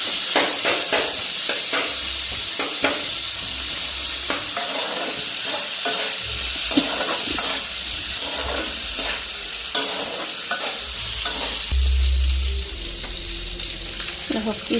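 Chili and capsicum fry in a pan for pasta, with a loud continuous sizzle and frequent scraping stirs throughout, and no one speaking.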